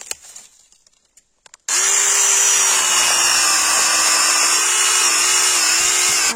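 A small chainsaw cuts garden wood in a garden, starting after a short stretch of faint handling noise and then running loud and continuous with a steady high whine until the end.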